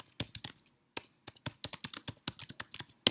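Rapid clicky keystrokes on a computer keyboard, close and distinct, coming in quick uneven bursts with short pauses between them.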